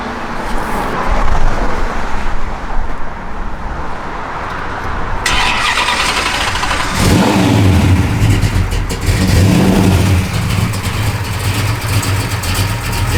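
A 1966 Plymouth Satellite's Hemi V8, running on pump gas, settles into a loud, close, deep rumble that swells midway and holds a steady throaty burble to the end.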